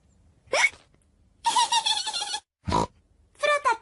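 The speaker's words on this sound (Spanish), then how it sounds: "El hipo de George les está estropeando el juego." A cartoon pig gives two short, sharp hiccup-like bursts, one near the start and another midway, alternating with stretches of animated character chatter.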